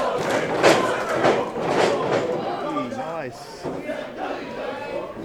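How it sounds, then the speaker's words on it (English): A wrestling crowd in Warrnambool cheers and chants for the wrestler Misfortune, a loud, rolling roar with rhythmic swells, heard under an excited commentator's voice. "Warrnambool crowd getting behind Misfortune here at the moment."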